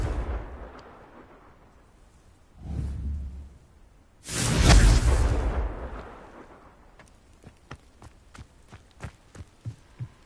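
In Hogwarts Legacy, a Confringo fire-blast spell whooshes out, then bursts in a loud, booming explosion with a rumbling tail. Scattered sharp crackles and thuds follow.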